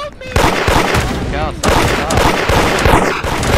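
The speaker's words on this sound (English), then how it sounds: "There's 13 people shooting." Dense, loud gunfire from many players at once during a raid in an online shooter game, continuous overlapping shots and bursts filling the whole stretch with no pauses.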